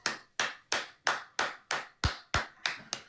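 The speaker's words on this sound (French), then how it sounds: "On vous applaudit le fond du bus." Nine sharp, close hand claps ring out alone in an even rhythm, about three per second, during a live broadcast show. Each clap is crisp with a quick decay and quiet gaps between.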